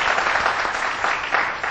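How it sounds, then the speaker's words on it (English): A college campus audience claps together, a dense, loud and steady burst of applause filling the hall without pause. "give a round of applause"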